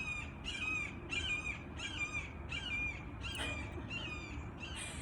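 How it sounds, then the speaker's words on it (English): A hawk calls outdoors, repeating harsh, scratchy cries about every half second, seven or so in a row, each clear and moderately close over a steady low background rumble. "That hawk really wanted to be heard."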